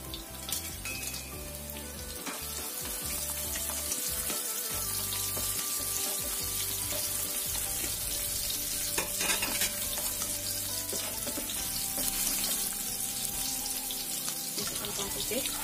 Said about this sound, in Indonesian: Kita akan tumis bawang merah